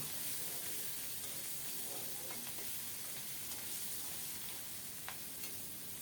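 Small shrimp fry in hot oil with a little salt and turmeric in a wok, giving a steady, close sizzle and hiss that runs unbroken throughout, with no voices.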